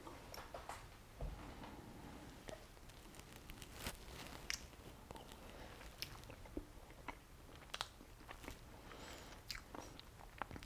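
Strawberry cake with almond frosting being eaten, with faint close chewing, small bites and soft mouth clicks scattered quietly across the stretch.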